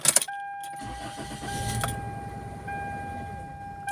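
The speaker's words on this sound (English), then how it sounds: "Oh, the car dies again. Let's off it and start it again." A Toyota car with a P1315 trouble code cranks and its engine catches briefly, then runs roughly and dies out, with a sharp metallic clack at the start and a steady mid-pitched hum throughout, close and moderately loud.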